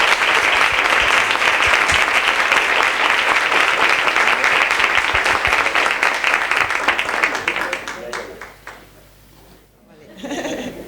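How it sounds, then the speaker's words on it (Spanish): A lecture audience gives a strong round of applause welcoming a novelist to a talk, dense steady clapping that thins and fades near the end, followed by a few faint sounds. "Luz Gabás, vamos a darle un fuerte aplauso."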